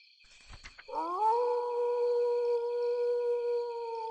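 A single long howl sounds from far off at night, rising and then holding steady as a smooth tone, after a few soft thumps at the start.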